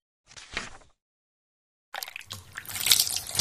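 Juice is poured as a sound effect in a children's storybook app: a short splash, a second of silence, then a longer burst of liquid splashing and trickling.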